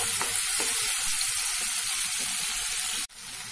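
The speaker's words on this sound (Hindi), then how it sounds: "टमाटर गलने तक हम इसे भून लेंगे" Tomatoes with salt frying in a pan give a steady, close, bright sizzle with bubbling pops that carries on unbroken, then cuts off abruptly before quietly resuming.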